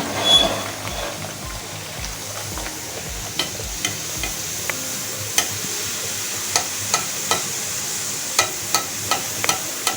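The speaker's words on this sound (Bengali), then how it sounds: "এবার আমরা একে একে রাধাবল্লভীগুলো ভেজে তুলে নেব।" Radhaballavi, stuffed puris, frying in hot oil: a steady bubbling sizzle runs throughout, punctuated by many scattered sharp ticks and pops that grow more frequent toward the end, with a few low thumps at the start and no voices.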